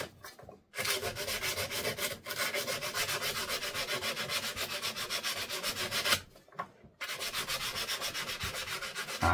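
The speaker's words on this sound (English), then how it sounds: "Let me just get a little bit of sandpaper here and just clean this shaft." Continuous rhythmic rasping of sandpaper rubbed back and forth on a metal shaft of an old two-stroke engine, close and loud, with two brief pauses between strokes.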